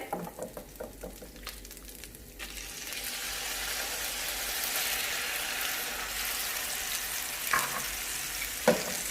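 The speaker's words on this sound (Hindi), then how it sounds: "फ्राई करेंगे चिकन को अच्छे से" 500 grams of chicken with ginger-garlic paste frying in a pan for Singaporean rice, starting with a few utensil clacks then settling into a continuous loud sizzle, with occasional stirring scrapes.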